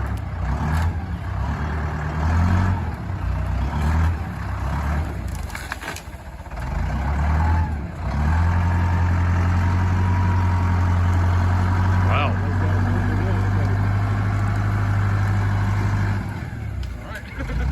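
A skid loader's engine rumbles steadily nearby as it comes out of a neighbor's yard, a loud, continuous low drone that swells partway through.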